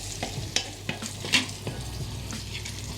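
Onions fry in melted butter in a pan, with a steady soft sizzle and a few light scrapes and clinks as they are stirred, and no voice.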